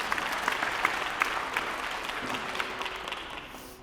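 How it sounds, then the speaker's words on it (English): Audience applause for Bedford Medical Center at the City of Bedford State of the City address: a steady, dense wash of many hands clapping throughout, with sharper individual claps poking out, fading slightly toward the end. "Round of applause for you, Bedford Medical Center."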